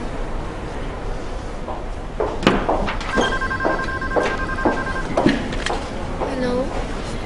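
A telephone rings in a drama scene, with several short bright ring bursts repeating in the middle, mixed with thumps and background room noise.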